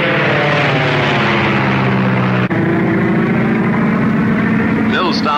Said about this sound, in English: Taking the night plane